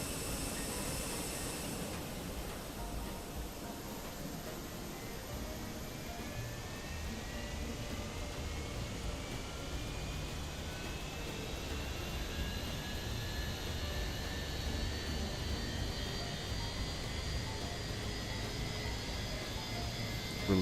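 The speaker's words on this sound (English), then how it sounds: "Let's go ahead and start up engine number 1." An Airbus A320 jet engine spools up during start in a flight simulator, a steady broadband roar with rising whine tones layered over it, loud and continuous, with no talking.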